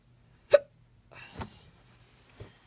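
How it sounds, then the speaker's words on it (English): A person hiccups: one sharp, loud hiccup, followed by two softer ones spaced about a second apart, close and in an otherwise quiet room. "My god, I hate my hiccups."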